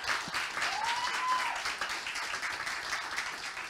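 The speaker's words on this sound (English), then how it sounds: "Applause." A conference audience applauds after a presentation, a dense wash of clapping at moderate loudness that holds steady for a few seconds and fades slightly toward the end.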